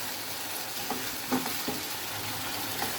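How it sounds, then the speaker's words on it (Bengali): Onion and garlic paste frying in oil in a pan, giving a steady, close sizzle with a few faint stirring scrapes and no voices. "এবার আমরা পেঁয়াজ বাটা রসুন বাটা একটু ভালো করে তেলে ভেজে নিব"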